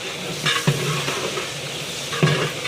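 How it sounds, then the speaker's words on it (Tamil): Onions sauté in oil in a large pot for temple-style sambar rice, with a close, continuous sizzle and two distinct scraping stirs of a ladle against the vessel. "வெங்காயம் போட்டு நல்லா வதக்கணும் எண்ணெய் நல்லா வதங்கணும் வெங்காயம்"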